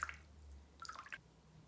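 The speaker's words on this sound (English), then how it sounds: "Dip the cotton buds in the water," Soft squelch of cotton buds soaked in warm water being squeezed during a home facial, with a few light drips of water, close and quiet.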